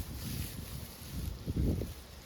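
Wind blowing through a garden on a blustery day, a continuous rushing hiss with low buffeting gusts swelling midway, no talking.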